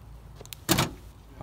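A couple of faint clicks followed by a soft, muffled thump as the handleless door of a custom 1970 Ford Mustang coupe pops open, close by and brief.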